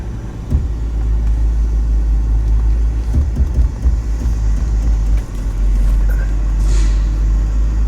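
A Land Rover Defender crawls slowly off-road, a heavy low rumble of engine and chassis dominating, with occasional thumps and bumps from the terrain and no talking.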